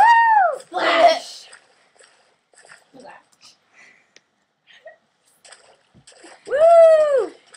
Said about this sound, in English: Woo! Splash!